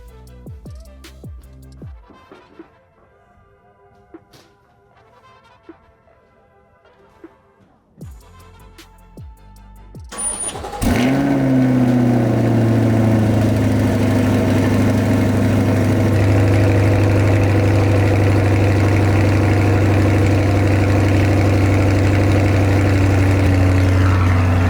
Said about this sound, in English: start off this video with a nice Corvette C8 cold start